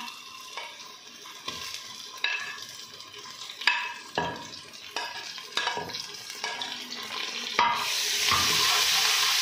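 Oily sizzling of garlic-ginger paste frying in a hot pan with repeated scraping and stirring strokes, the frying growing steadier and louder toward the end.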